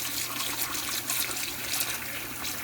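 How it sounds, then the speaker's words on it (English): Water running steadily into a sink while model kit parts on the sprue are washed with soap and a sponge, a continuous close hiss with no talk. "Maybe like dip it in the water a little bit and like put some soap."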